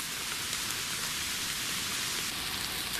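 Steady rain falls through a dark clump of trees at night, a dense continuous hiss of drops on leaves and ground that stays even and close throughout, with no voices.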